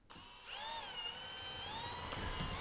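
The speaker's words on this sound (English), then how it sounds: "So for this one, I'm going to start it off with a drill bit and then cut it out with a jigsaw." Power drill with a bit boring a starter hole into a Dumawall tub wall panel, a steady high whine rising and holding for a couple of seconds, close and fairly loud.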